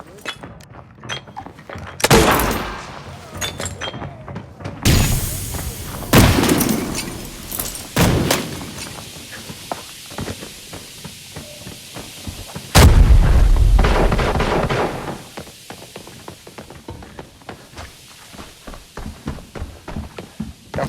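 Rapid gunfire in the shooter game Arena Breakout, set in a TV station zone, with repeated loud shots in bursts, sharp impacts and a heavy blast partway through, over constant background game noise.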